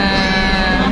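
A pet kitten meowing during a holiday homecoming trip from Ponorogo to Lumajang in East Java: one loud, close, drawn-out meow with a steady tone, heard alone.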